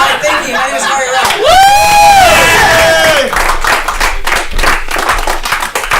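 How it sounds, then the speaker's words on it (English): A comedy show audience breaks into loud applause and cheering, with a high whoop rising over dense clapping that stays close and sustained through the crowd noise. "Give him a round of applause."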